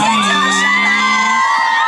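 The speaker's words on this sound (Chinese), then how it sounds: "掌声欢迎" An outdoor crowd at a Pingtung Linbian township celebration concert for a singer whoops, shouts and cheers loudly, a dense roar of many voices with musical tones ringing through it for two seconds.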